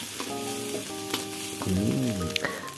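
White tofu dropped into hot vegetable oil sizzles and fries steadily in a pan, close and bright, with light stirring clinks throughout.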